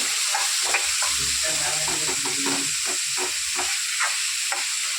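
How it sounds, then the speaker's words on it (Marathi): Misal masala mixture fries in a pan with a continuous sizzle, while a spoon scrapes and stirs through it in repeated, rhythmic strokes close by. "पाच ते 10 मिनिटं खरपूस रंग येईपर्यंत परतत राहा."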